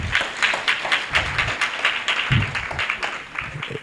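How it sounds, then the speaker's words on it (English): A small crowd at a meet-and-greet event claps in a lively, uneven patter, moderately loud and close, tapering slightly toward the end. "Another round of applause."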